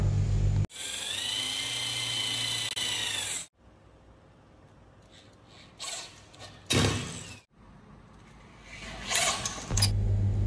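Power drill boring bolt holes in wooden parts for the legs of a Murrey Symphony billiard table, a loud whining run of about three seconds followed by shorter revving bursts and pauses, close by and with no talking.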